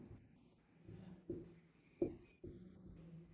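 Chalk or pen writing on a board during a Class 10 maths lesson on polynomials: a few quiet scratchy strokes and taps, faint and close, with no speech over them.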